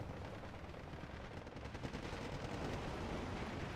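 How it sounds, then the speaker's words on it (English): Mortar fire in the WWII strategy game Steel Division 2 forms a faint, continuous rumble of distant battle, with overlapping blasts and shots blurring into a dense, steady wash. "Lots of mortar fire is going to go down on a lot of these other troops."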